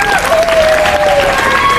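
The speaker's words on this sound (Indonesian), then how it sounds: "Ya, tepuk tangan dong Ustadz Mas Budi dong." Students at a high school morning assembly applauding, a brief burst of many hands clapping with a few thin whistle-like tones on top, loud and close.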